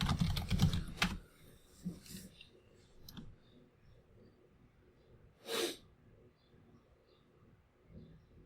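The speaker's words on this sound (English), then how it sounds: "Oh, you're typing it." Quick keyboard typing clicks at a card-game match table, a dense burst at the start and then sparse taps, with a sharp snort-like noise midway and people talking nearby.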